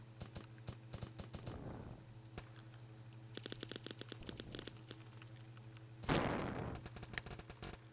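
Gunfire in a Roblox shooter game set in Kandahar, Afghanistan: scattered single shots and rapid bursts crackle over a steady low mechanical hum, with a louder rush of noise near the end, all fairly quiet.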